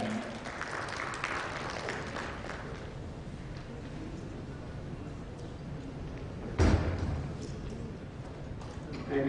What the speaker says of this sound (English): a round of applause for Major General.